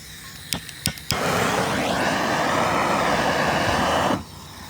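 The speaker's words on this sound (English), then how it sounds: "If you get the torch, it loosens that glue up a lot." A propane torch roars steadily while warming a metal strip to loosen glue during a school bus conversion into a race car hauler, a loud continuous hiss after a few sharp clicks, then abruptly cut off.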